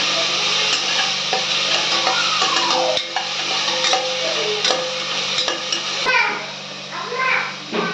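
Onions sautéing for tomato rice, with a steady sizzle and repeated stirring scrapes and clinks of a spoon in the pan, and a voice talking faintly in the background.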